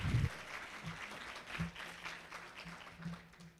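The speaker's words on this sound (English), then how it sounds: "How about another round of applause for Tawana Kenny?" Audience applause for Tawana Kenny at a fundraiser and birthday celebration: a steady patter of clapping from a moderate crowd, fading gradually over a few seconds.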